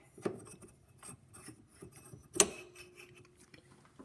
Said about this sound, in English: Now we insert the mandrel.